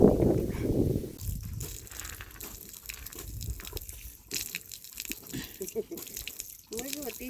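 Young sheep drink straight from an outdoor water tap as the water runs and splashes. There is close wet lapping and gushing, a voice talks over parts of it, and there are small clatters and handling noise.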